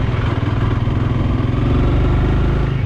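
A 2022 Honda Rebel CMX300 motorcycle, heard close while riding, with its engine pulling under a little throttle, a loud, continuous, throbbing drone with rapid pulsing and rising slightly in pitch.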